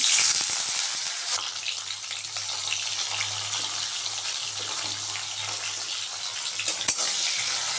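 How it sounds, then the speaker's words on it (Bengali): Cauliflower frying in very hot oil in a home kitchen, giving a steady, even sizzle and crackle that holds from start to finish at moderate loudness, with a few small clicks and no voices. "দেখুন তেলটা বেশ গরম হয়ে গেছে এখন আগে আমি ফুলকপিটাই একটু লাল করে ভেজে নেবো"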